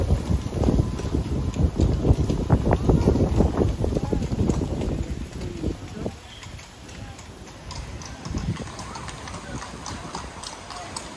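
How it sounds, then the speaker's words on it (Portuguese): Strong wind buffets the microphone at Plaza de España, rumbling in heavy gusts that ease later, with horse hooves clip-clopping and a person talking underneath. "E o vento tá forte"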